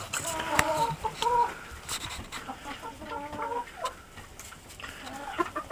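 Chickens around a heated waterer in a backyard coop, mixed breeds including a silkie, cluck and squawk in short bursts, fairly close, over quiet background noise.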